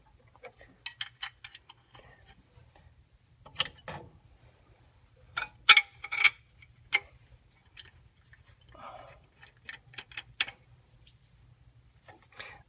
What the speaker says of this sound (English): now I'm going to go ahead and install the other 2 spacers.